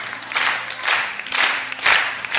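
A wedding crowd applauds with dense, steady clapping in several swelling waves, rising and falling over a couple of seconds.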